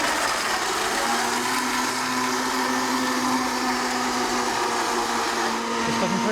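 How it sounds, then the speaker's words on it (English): A blender whirs steadily as it purées cooked butternut squash into a sauce for macaroni and cheese, a constant loud motor drone running without a break. "Stop the blender."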